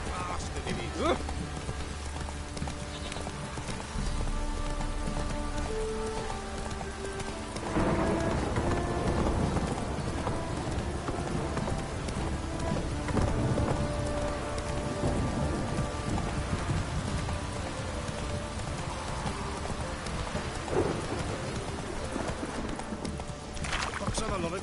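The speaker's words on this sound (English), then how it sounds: "This downpour's a bastard, it is." Steady heavy downpour in The Witcher 3 video game, a dense continuous hiss of rain with occasional clopping and rumbling sounds mixed in, present throughout with a voice talking over it at times.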